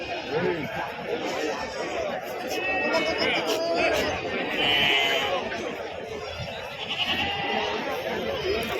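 Goats bleat intermittently among a busy livestock market crowd, their calls rising over constant chatter and talking voices.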